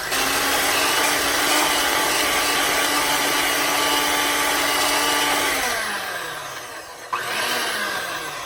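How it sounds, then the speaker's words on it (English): An electric mixer whirs steadily through lemon pound cake batter, a loud continuous motor drone that holds even, then slows and winds down toward the end, with a brief bump before it picks up again. "Okay, back to the mixer. And let's go a few minutes doing this."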